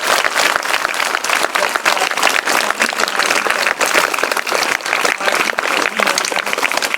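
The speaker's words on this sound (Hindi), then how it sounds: "जोरदार तालियों के साथ" Loud, dense applause from a school audience welcoming a guest scientist, continuous clapping for several seconds with no speech over it.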